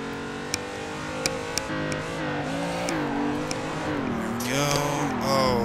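A race car in Assetto Corsa revs and drifts, its engine note rising and falling under steady throttle changes, tires scrubbing as the pitch climbs toward the end, with a few sharp clicks in the background.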